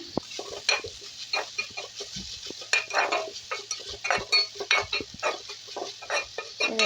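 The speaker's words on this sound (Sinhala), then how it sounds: "ඊට පස්සේ කහ චුට්ටක් ගම්මිරිස් කුඩු ටිකක් ඒ ටික දාගෙන කලවම් කරගමු" A spoon scrapes and clinks against a pot as salt, turmeric and pepper are stirred into a fish curry, giving irregular close stirring strokes over a faint steady hum.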